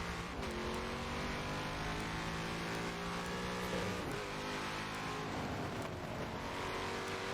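Race car engine in a racing video game on the Nürburgring GP circuit, a loud continuous drone with rising and falling revs through gear changes, steady and alone with no talk.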